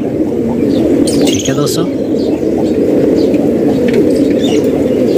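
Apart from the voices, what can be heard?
fancy pigeons cooing and flapping wings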